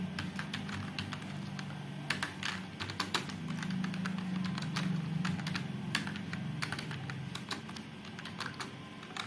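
Typing on a computer keyboard, a steady patter of close, crisp keystrokes with short pauses over a soft background hum, no voices.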